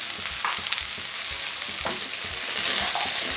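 Boiled peas and potatoes are stirred into the pan for a samosa filling, with a steady close sizzle and soft scraping strokes of the spoon repeating throughout, no voices.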